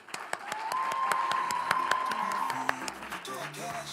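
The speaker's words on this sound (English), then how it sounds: "So let us give us applause to our teachers and our mentors." An audience at a national science and technology exhibition opening ceremony claps for teachers and mentors, sharp scattered claps over a sustained steady tone, with faint background voices and music.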